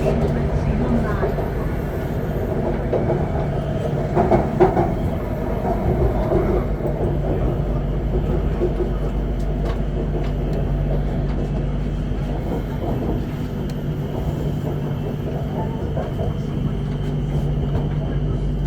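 A Bangkok Skytrain runs between Asoke and Siam stations, giving a steady loud rumble heard from inside the car, with a few clunks and faint voices in the background.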